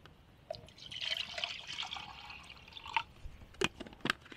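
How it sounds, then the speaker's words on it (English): Water pours into a Lixada bale pot at a campfire camp, a close, bubbling trickle rising and settling over a few seconds, then a few sharp clinks and taps of metal. "let's put a bit of water on"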